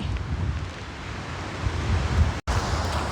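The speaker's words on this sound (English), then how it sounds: "Really strong gusts of wind, and we have a bit of a casualty." Strong wind roars and buffets the microphone in heavy, rumbling gusts strong enough to damage a fence, with a brief dropout near the end before the blustery noise resumes.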